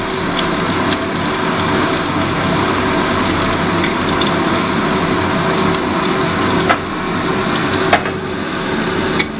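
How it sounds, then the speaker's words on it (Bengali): Chopped onion and garlic hitting hot oil make a loud, dense, continuous sizzle and hiss, with a couple of sharp clicks near the end and no voices. "প্রথমে যাচ্ছে পেঁয়াজ কুচি, আর রসুন কুচি একসাথে চলে গেল।"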